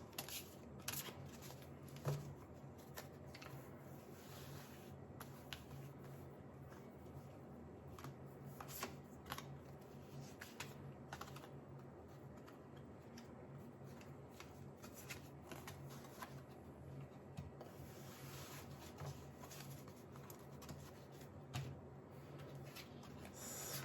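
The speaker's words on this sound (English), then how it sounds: "You have to shuffle the cards." Tarot cards are shuffled by hand up close, soft papery riffles and rubbing slides repeating in quiet, irregular bursts with no talking.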